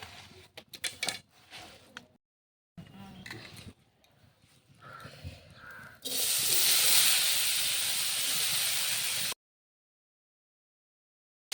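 Grated coconut and sugar stirred in a hot wok for a sweet filling give a steady, loud hissing sizzle for several seconds, after quieter handling noises and clinks.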